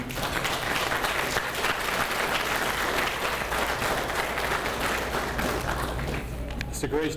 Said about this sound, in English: I think we should give a round of applause for him